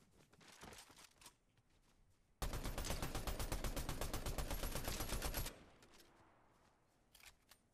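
Rapid automatic gunfire from a weapon in the video game Fortnite rattles in one sustained burst of about three seconds, with a few scattered single shots and faint clicks before and after.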